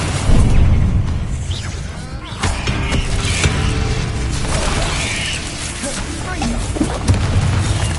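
Spell blasts from Hogwarts Legacy's Confringo and Incendio: loud, dense booms and crackling bursts overlapping in quick succession, with mechanical clatter throughout.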